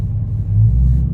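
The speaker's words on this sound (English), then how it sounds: "Let me crank it up one more time." A 2021 Dodge Charger Scat Pack Widebody engine gives a loud, close, steady low rumble, a brief continuous burst with no voices.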